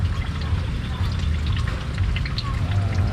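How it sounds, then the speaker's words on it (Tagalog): Rain patters steadily on the roof of a farm hut, a dense close drumming of drops over a low rumble, continuous and fairly loud throughout. "Patak sa bubong."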